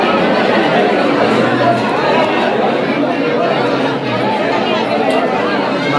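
Dense crowd chatter fills a temple queue at the Omkareshwar and Mamleshwar Jyotirlinga shrines, a steady close babble of many voices that never lets up.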